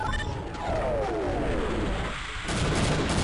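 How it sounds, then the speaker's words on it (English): Airstrike explosions in Half-Life: dense, loud booming and roaring blasts with a falling whistle-like tone, the rumble swelling again toward the end, with no voices. "we need to do the final airstrike"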